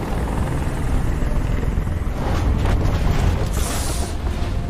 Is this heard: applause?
no